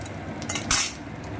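Dried red chillies and whole cumin seeds frying in hot oil in a kadai, a steady close sizzle with a brief rise in crackle and a few light utensil scrapes, no voices.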